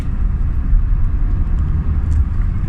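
Car engine running steadily during a road test of a vehicle with idle problems, long cranking and black smoke, a dense low rumble held at constant loudness with no talk.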